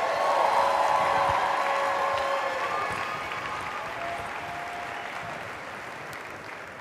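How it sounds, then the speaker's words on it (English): Applause from an audience at a goal-setting training session, a full burst of clapping that holds steady then gradually thins and fades toward the end. "Let's give them a round of applause."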